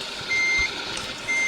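A truck's reversing alarm beeps in a steady repeating pattern of tones, loud and close, over a busy broadband hum of traffic and engine noise on a crowded road.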